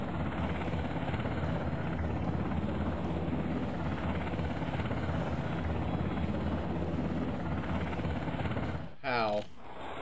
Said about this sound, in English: Get out of the way, attack helicopter.